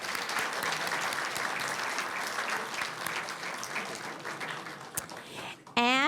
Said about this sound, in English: Let's give Ingrid a big round of applause.